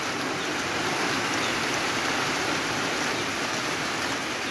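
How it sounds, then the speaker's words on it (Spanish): Heavy passing rain pours down steadily in Olancho, a dense, constant hiss with no breaks, close and loud throughout. "Estas nomás solo son lluvias pasajeras, miren, ya llovió fuerte."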